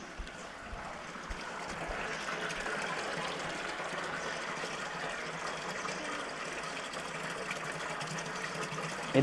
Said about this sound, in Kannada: ಓಕಳಿ ಆಡೋಕ್ಕೆ ನೀರು ಬಿಡ್ತಾವ್ರೆ